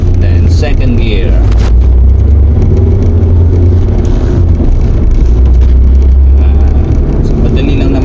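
A manual-transmission car's engine drones loud and close, with the revs rising and falling through gear changes from first into second, muddied by heavy cabin and wind rumble.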